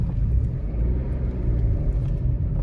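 A Citroen C1 city car being driven after a clutch cable replacement, a continuous low road rumble and engine drone heard from inside the car, steady and with no talking.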